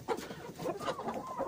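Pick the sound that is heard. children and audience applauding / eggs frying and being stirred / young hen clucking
young hen clucking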